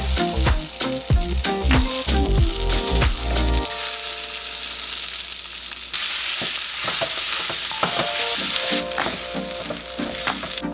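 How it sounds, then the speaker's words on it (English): Vegan chorizo frying in a pan, a loud, close, continuous sizzle broken by sharp clinks and scrapes of a utensil stirring against the pan, with no talking. "So while the chorizo is cooking,"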